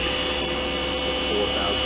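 A 2011 Milltronics VM-2016 CNC vertical machining center with a BT spindle spins up, giving a constant high whine over a broad mechanical hum, with a voice speaking alongside.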